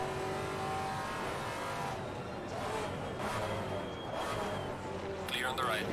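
Maserati MC GT4 race car engine in the Assetto Corsa Competizione racing game, aggressive downshifts with sharp throttle blips and revving, continuous and loud, with a commentator talking over it throughout.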